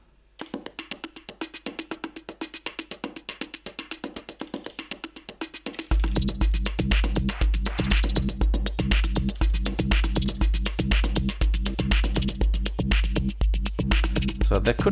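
Looping synthesizer pattern from a dawless hardware setup built for a dance track, a sparse repeating sequence for six seconds, then a fuller layer with a heavy pulsing low end and extra added sound joins, steady and loud.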